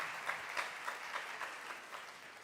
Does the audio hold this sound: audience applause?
yes